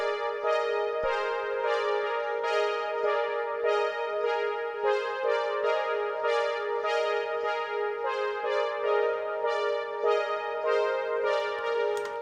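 A self-made synth patch on a Roland PG-8X plays in an 80s italo/synthwave style, a bright sustained chordal tone with rhythmic pulsing accents and heavy effects, steady and alone without talk.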